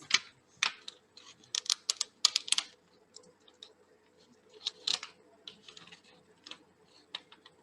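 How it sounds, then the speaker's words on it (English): Sharp scissors cut an OHP plastic sheet for DIY earrings, giving irregular crisp snips and clicks, some in quick bursts and others spaced apart, close and fairly quiet. "Use some sharp scissors and do it."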